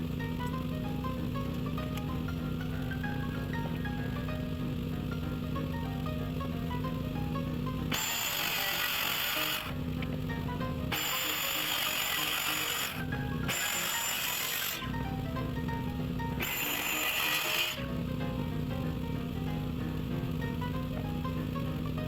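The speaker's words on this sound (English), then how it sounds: "I am going to go ahead and just start cutting things down to the correct size" Boards are cut to size with a power saw for a homesteader's first solo building project, in four loud bursts of a few seconds each over a steady background hum.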